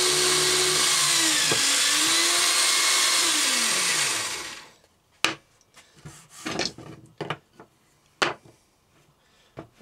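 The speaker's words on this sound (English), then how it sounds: "I want to use a pillar drill." A pillar drill bores holes in wood for a thread rack, a loud steady whirring grind with pitch dips as the bit bites, stopping after about four seconds, followed by scattered clunks and knocks of handling the workpiece.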